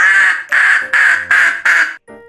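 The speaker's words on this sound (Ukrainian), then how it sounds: "Качка каже кря-кря-кря" A duck quacks five times in quick succession, loud and close, each quack a harsh nasal burst.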